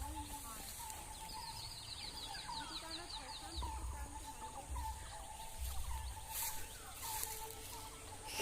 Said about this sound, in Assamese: আৰু চৰাই মাত দি আছে